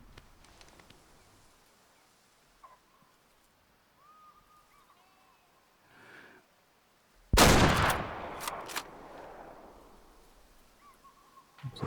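A hunting rifle firing in the video game Way of the Hunter, heard as one loud, close gunshot with a rolling echoing tail amid quiet outdoor ambience and faint bird calls.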